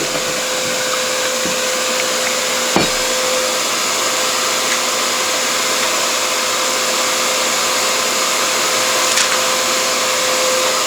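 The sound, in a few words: dust extractor running, router plugged in for inlay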